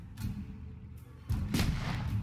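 Gunfire in the video game Black Legend: two deep, booming shots about a second apart, heavy and loud with a rumbling low end, and no speech over them.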